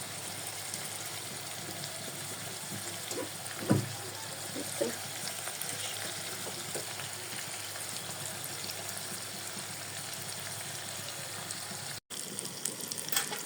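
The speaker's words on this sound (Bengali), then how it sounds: "এটা দিয়ে আমি আজকে মাছের পেটে ভাজা আপনাদেরকে দেখাচ্ছি" Pieces of fish belly fry in a pan brushed with very little oil, giving a continuous soft sizzling hiss with a few sharp pops and clicks along the way.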